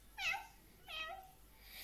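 A cat meows twice, close by and fairly soft, two short separate calls with a brief pause between them.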